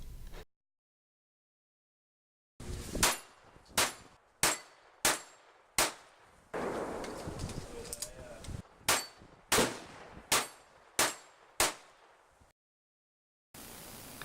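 A Browning Buck Mark pistol with a newly installed TANDEMKROSS Fire Starter firing pin is test-fired in about ten sharp, evenly spaced shots at close range, with quiet gaps at the start and end.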